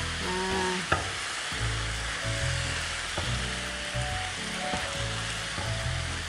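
Mackerel and basil sizzle steadily in a hot pan while being stirred, with occasional spoon scrapes and light clicks over continuous close frying hiss.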